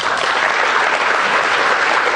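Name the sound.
audience applause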